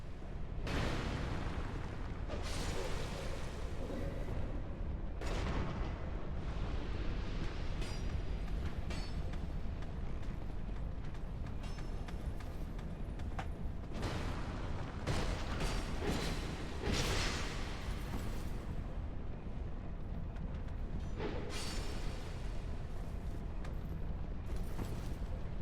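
Gunfire and heavy impacts in the Dark Souls 2 video game, repeated loud broadband bursts and booms scattered across a continuous dense game soundscape, with no talk over them.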